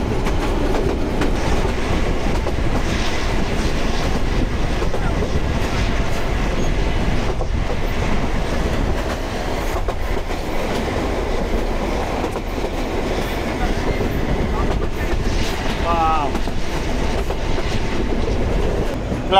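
A train rolls loudly and continuously near Netrokona railway station, with a steady rumble, rhythmic clatter and a brief wheel squeal toward the end.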